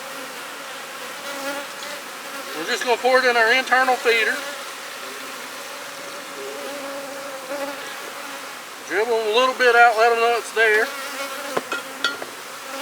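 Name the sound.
honey bees at a cell builder hive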